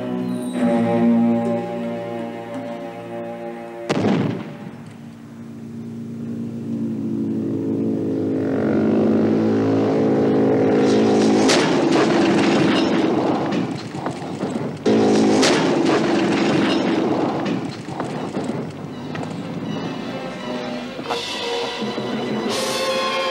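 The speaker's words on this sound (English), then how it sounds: "Crash into the bike and into the buggy" A stunt vehicle on a Mad Max 2 set, 1981, roars along and crashes into a motorbike and a buggy, an engine drone broken by a sharp impact, then revving, with louder crunching bursts.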